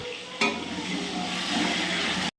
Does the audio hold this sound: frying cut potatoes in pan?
yes